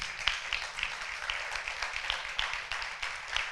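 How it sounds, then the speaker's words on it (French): A church congregation applauds two people announced for baptism: a soft, fairly distant patter of many hands clapping steadily over a low room hum, with no talk on top. "Je pense qu'on peut déjà les applaudir"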